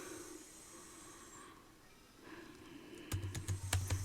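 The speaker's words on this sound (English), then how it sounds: "I'm just typing something random." Keys tapped on a computer keyboard in a quiet room: a faint hiss at first, then a quick burst of close, crisp clicks in an uneven rhythm near the end.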